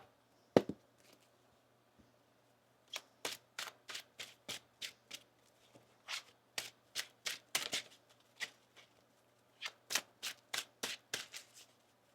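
Tarot cards are shuffled in repeated quick riffling bursts, crisp papery flutters with short pauses between them, close and clear with no talking.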